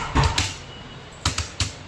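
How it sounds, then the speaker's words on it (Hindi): Typing on a computer keyboard in a Hindi typing lesson: a few close clicky keystrokes in short bursts, separated by quiet pauses. "अब यहाँ हम टाइप करेंगे"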